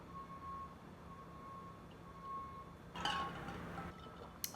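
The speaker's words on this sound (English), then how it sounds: "There's like a giant truck in front of my house right now." A large truck backs up outside a house, its reversing alarm sounding as steady, evenly spaced beeps at a moderate distance over low engine rumble, with a brief burst of louder noise toward the end.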